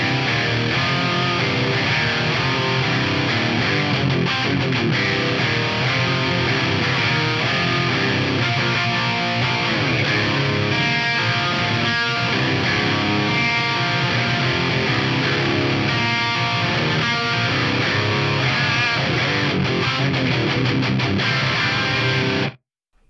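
Electric guitar played through an FM9 preset with short stereo delays of around 3 and 30 milliseconds, a dense, wide, distorted tone sustained loud and continuous for over twenty seconds before cutting off abruptly.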